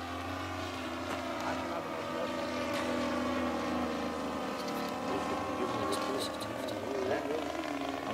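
A 50cc gas engine mounted on a Hobbistar MK III model plane runs steadily at about 4,000 rpm, a continuous droning buzz that holds level throughout, with voices talking over it.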